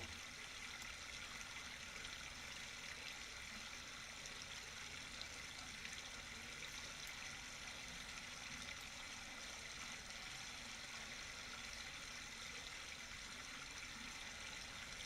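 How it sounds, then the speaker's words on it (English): A waterfall gives a faint, steady rushing hiss of falling water, an even wash that stays constant throughout with no voices and no other sounds rising above it. "Oh, the sound of the waterfall."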